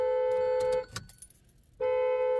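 A car alarm blares near a home in a loud, steady electronic tone. It breaks off briefly while keys jangle and there is some rustling, then the tone resumes at full volume.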